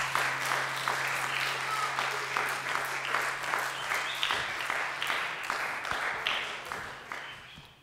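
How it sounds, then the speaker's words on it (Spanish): Audience applause for performers after a rehearsal of music for instruments, a steady wash of many hands clapping at moderate volume that thins toward the end, with a low constant hum underneath. "Molt bé, un aplaudiment per a ells."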